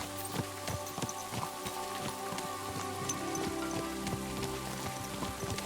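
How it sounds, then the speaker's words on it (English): Rain falls steadily in the medieval video game Kingdom Come: Deliverance II, a constant close patter of drops on surfaces with no voices. "It's raining."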